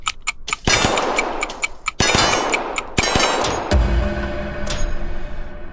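Gunshots crack at a shooting range, loud and close, spaced roughly a second apart, each followed by a bright metallic clang and ring, and a lower rumble closes the sequence.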